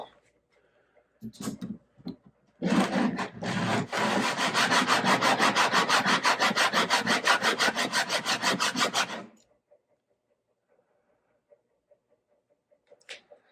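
A bone bridge for a 1953 Gibson L-50 guitar is rubbed back and forth on sandpaper, giving a close, fast series of even scraping strokes that run for about six seconds before stopping.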